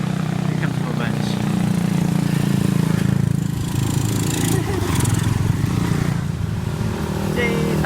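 A group of motorbikes rumbles past close by in the Thai village of Mae Kampong, engines droning steadily throughout, with someone speaking over the noise.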